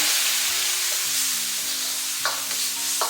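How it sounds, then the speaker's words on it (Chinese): Garlic and chili stir-fried in a wok with dark soy sauce and cooking wine sizzle steadily, with a few louder scraping stirs of the spatula near the end and no talk. "来点老抽给它上色，再来点料酒给它去腥，然后翻炒均匀"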